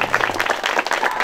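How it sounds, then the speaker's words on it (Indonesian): A group claps at a military-themed gathering: dense, continuous applause that fills the whole moment at steady loudness, with faint crowd murmur underneath. "Tepuk tangan."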